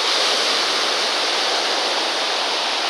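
Steady rushing water where a river flows into the sea on Sicily, a loud, dense and unbroken roar of churning flow that holds the same level throughout with no voices.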